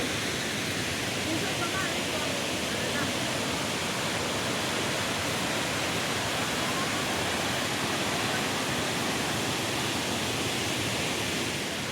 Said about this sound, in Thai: มาเบิ่งน้ำตกตาดตะยิกเสือ